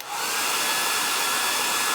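A hair dryer blows steadily up close to heat-set Chalk Couture ink, its loud, even whooshing roar rising at once and holding with no voices over it.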